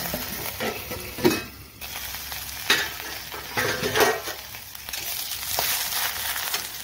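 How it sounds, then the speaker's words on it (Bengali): Sweet pumpkin leaves frying with browned onion in a pan, with a bright sizzle and spoon scraping, several louder stirring strokes and rustles, close and steady, with no voices. "এবার আমি দিয়ে দিব মিষ্টি কুমড়ার পাতাটা। এবার আমি ভেজে দেব।"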